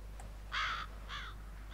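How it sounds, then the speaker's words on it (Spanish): A crow in the video game FEAR gives two harsh caws, close and fairly loud, after a faint short chirp, over a low steady background hum. "¡Hasta luego, cuervo!"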